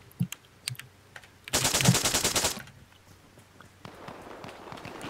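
Gunshots in Arma Reforger ring out: a few sharp single shots, then a dense rapid burst lasting about a second, followed by quieter clicks and movement sounds.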